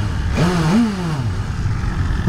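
A BMW S1000RR sport bike engine, already warmed up, is blipped once: a close, sharp rev rises and falls quickly, then settles back to a steady idle.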